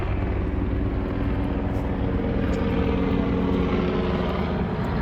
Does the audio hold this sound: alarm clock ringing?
no